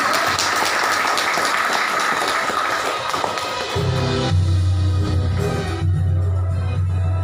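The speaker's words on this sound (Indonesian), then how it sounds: "Aplaus untuk kita semua" Audience applause at the launch of Simawas, a Mahkamah Syariah Aceh supervision app, dense steady clapping throughout with a low sustained tone joining partway through.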